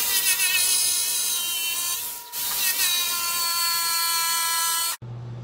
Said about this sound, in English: So first I'm going to cut it with a jigsaw.